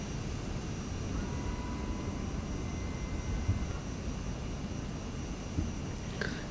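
Steady droning airliner engine idling while taxiing in Microsoft Flight Simulator 2024, a constant low rumble with a faint high whine, occasional soft clicks near the end, no talk.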